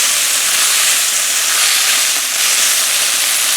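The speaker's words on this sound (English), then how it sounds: "We're stir frying the Brussels sprouts here" Brussels sprouts stir frying in a hot cast iron pan, giving a steady, loud, close hiss and sizzle that holds evenly throughout with no talking.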